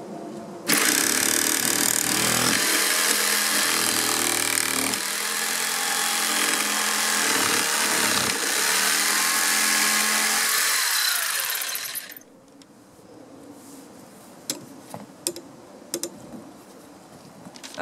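A power tool cuts notches into a board, a loud, continuous whining buzz that runs for about twelve seconds with dips in pitch as it bites, then stops, leaving quiet clicks and knocks.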